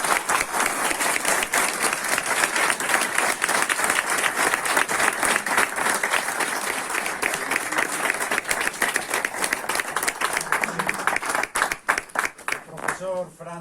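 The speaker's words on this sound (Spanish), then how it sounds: "e tamén pido un aplauso para el." Audience applause at a commemorative tribute event in Galicia, a dense, sustained clapping of a crowd that fills most of the stretch, thinning into scattered claps near the end.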